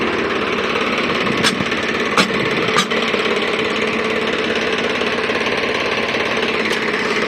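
A tractor engine idles steadily while a cultivator is being attached on a farm field, a continuous rough mechanical drone with a few sharp metallic clanks early on, close and fairly loud, no talking.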